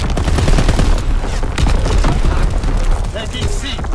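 An artillery barrage pounds a Shipment domination match in the Call of Duty: WWII video game, a dense run of booming blasts and rattling gunfire lasting four seconds, with a game voice talking over it.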